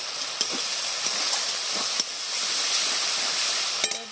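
Spice paste with chopped coriander leaves sautéing in a pan for a Bengali fish curry, giving a steady close sizzle and hiss with a few soft stirring scrapes throughout.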